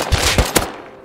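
Three rapid, loud gunshots burst close in the game Rust during a raid, then a short ringing decay, with no talking.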